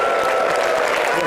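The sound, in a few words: audience applause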